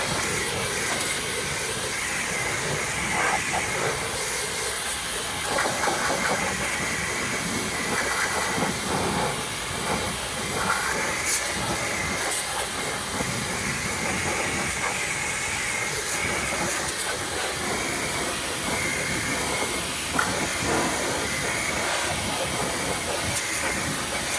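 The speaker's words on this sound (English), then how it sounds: "You can actually feel the power in your wrist on the pressure washer gun" A RYOBI 1.8 GPM electric automotive pressure washer spraying car wheels makes a loud, steady, close hissing roar of water jet and pump that holds unbroken for the whole stretch, with no talk.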